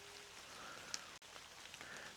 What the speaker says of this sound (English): the rain coming down.